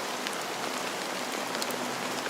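Steady rain pours down in Honkai: Star Rail, a dense, even hiss of drops spattering on surfaces that holds constant throughout, close and fairly loud with no voices over it.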